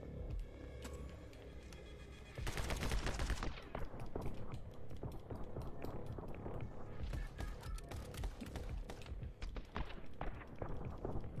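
Rapid video game gunfire erupts after a quieter start, then continues as dense, relentless rattling shots with sharp cracks, loud and up close for several seconds.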